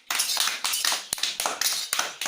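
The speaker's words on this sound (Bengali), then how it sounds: "হাততালি তুমি দাও" Hand clapping, close and steady: about eight or nine sharp, rhythmic claps in quick succession with brief gaps between them.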